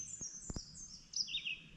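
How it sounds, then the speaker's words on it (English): Baltimore Orioles sing in a forest, giving a few clear, high whistled phrases with brief sharp knocks between them at moderate distance and no talking. "You can hear them singing. There's so many birds in this cut."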